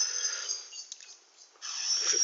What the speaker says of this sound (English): Failure to start up, I like to call this one.